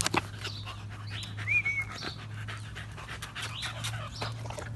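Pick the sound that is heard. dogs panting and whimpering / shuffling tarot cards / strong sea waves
dogs panting and whimpering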